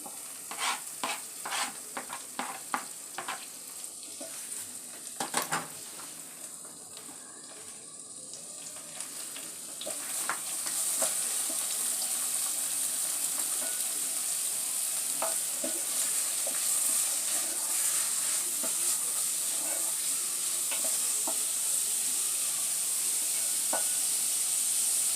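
Tomato and carrots are added to browned onions in a frying pan, with clacking stirring and scraping at first, then a steady close sizzle and hiss that continues alone.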